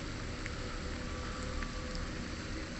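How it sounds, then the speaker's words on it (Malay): Heavy nighttime rain falls near a swampy river in a steady, dense hiss that stays constant throughout, with no talking and no thunder. "hujan lebat kan"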